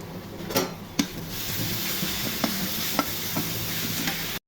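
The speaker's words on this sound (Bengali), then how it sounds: "এখন আদা রসুন দিয়ে ভেজে নিব" Ginger and garlic frying in a pan with fried onion, a continuous close sizzle punctuated by several sharp taps and scrapes of a spoon stirring.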